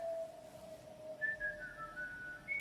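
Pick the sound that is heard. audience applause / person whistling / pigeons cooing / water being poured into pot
person whistling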